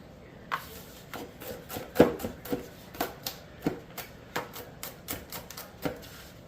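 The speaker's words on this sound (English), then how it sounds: "Start off with mincing up our garlic." Fresh garlic being minced with a knife for homemade jambalaya: a steady series of sharp, close chopping taps with short pauses between strokes.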